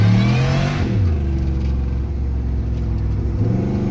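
Chevrolet truck with a 5.3 engine and an Eaton M122 supercharger revving hard in third gear, a loud, close engine roar whose pitch rises, dips as it shifts, then climbs again with no talk over it.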